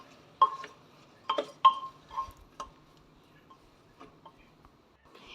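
Soaked rice is stirred into sambar rice in a pot, with sparse metallic clinks and taps of a spoon against the vessel, a few louder knocks early and quieter scrapes afterward.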